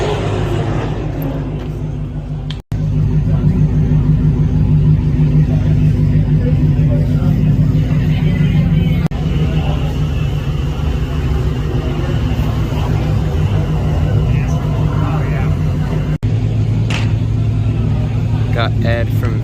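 Rally car engines rumble and rev nearby in a loud, continuous drone as the cars head onto a race track, with people talking over the noise throughout.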